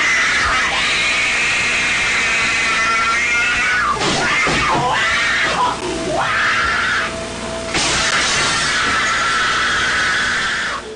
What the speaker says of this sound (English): he is shrieking like a wild animal and destroying the whole room